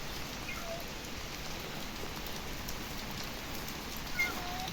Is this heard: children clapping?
no